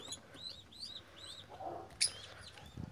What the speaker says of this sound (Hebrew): הנה התוכי שרוצה להיכנס לבית התלה